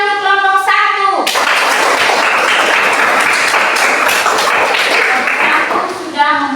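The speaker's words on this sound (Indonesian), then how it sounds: "tepuk tangan untuk kelompok 1" A classroom of students breaks into loud, dense clapping for group 1, close and continuous for several seconds, bracketed by someone speaking just before and after.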